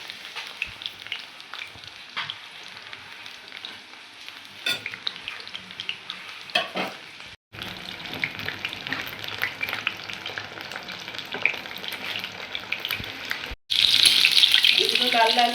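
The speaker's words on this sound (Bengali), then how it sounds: "এগুলোকে উল্টে পাল্টে লাল লাল করে ভালো করে ভেজে নিতে হবে।" Small pieces sizzling loudly in hot oil as they are turned over and fried until reddish, with spatula scrapes and stirring bursts and two brief cuts in the sound.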